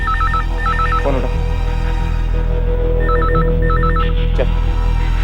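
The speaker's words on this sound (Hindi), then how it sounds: "चल फोन उठा।" A telephone bell rings in two clear bursts of repeated trilling, loud and close over a steady low hum, with a brief sharp knock between rings.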